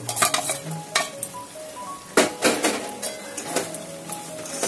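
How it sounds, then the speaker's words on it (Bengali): A spoon scrapes and stirs through fried potatoes in hot oil and spice paste, with a steady sizzle and repeated scraping strokes against the pan, close by. "আলুগুলো দিয়ে অনেকক্ষণ নেড়ে নিলাম"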